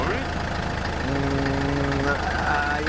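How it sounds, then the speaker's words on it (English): A 1962 Lancing diesel forklift engine runs on its own, giving a steady, rough mechanical drone with a faint rise in pitch partway through, heard up close while people talk over it. "Oh no, it's revving itself up on its own."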